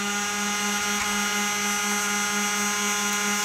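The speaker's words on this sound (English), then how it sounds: "Oh, this fan right here seems to be a little obnoxious." Cooling fan inside a Juniper router running loud and steady, a constant whining drone with strong tonal hum, alone and unbroken throughout.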